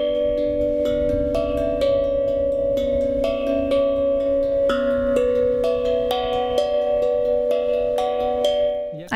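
Bright, bell-like metallic notes from a steel tongue drum ring out one after another in a flowing melody, each tone sustaining and overlapping the next.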